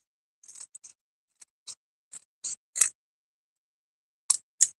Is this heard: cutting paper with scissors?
yes